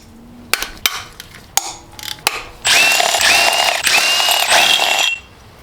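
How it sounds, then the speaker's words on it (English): Hand tools work a motor mount loose on a 2JZ engine during a teardown: several sharp metallic knocks and clicks, then a long loud run of rapid ratcheting near the mic, no speech. "Then we can go ahead and pull this motor mount off."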